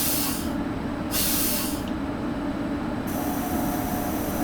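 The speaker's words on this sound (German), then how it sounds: "Oh, das mit der Bremse bei dem Zug ist ein Horror." Air brakes on a train in Train Simulator 2019, running in the Salzkammergut, give a loud, continuous hiss that swells and drops in bright bursts over a steady low rumble.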